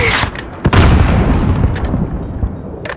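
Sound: mortar fire in Call of Duty: Modern Warfare video game

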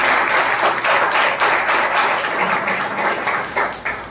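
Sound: congregation clapping to thank God

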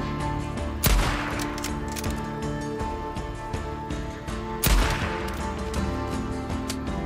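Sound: rifle gunshots in Days Gone video game

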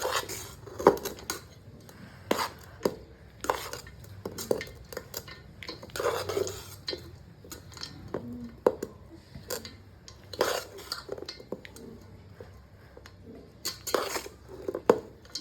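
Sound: stirring tamarind pulp into rice in a pot

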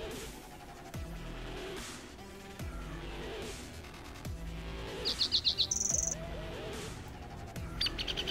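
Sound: chirping birds in Minecraft video game

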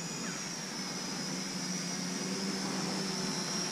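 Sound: SJRC Z5 drone flying

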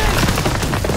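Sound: gunfire in the video game Call of Duty: WWII

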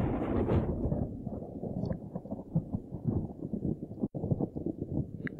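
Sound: thunder in the video game Cities: Skylines

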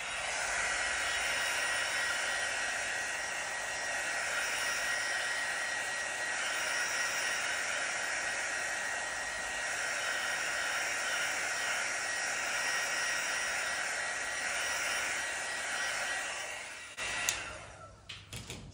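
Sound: heat embossing tool blowing hot air on paint

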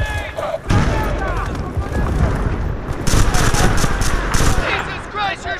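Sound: gunfire in the video game Battlefield: Bad Company 2

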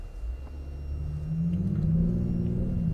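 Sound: Kia K9 3.3 gasoline turbo engine pulling away

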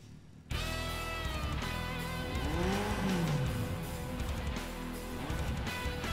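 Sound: car engine and tire squeal in Perfect Dark Zero video game

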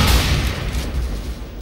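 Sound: sniper rifle shot in the CS:GO video game

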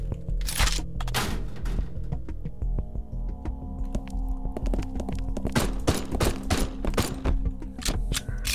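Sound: gunshots from the video game Haydee

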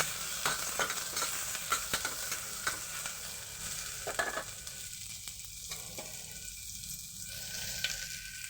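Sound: frying onions in a little oil

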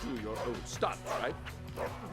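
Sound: dog barking in LittleBigPlanet video game

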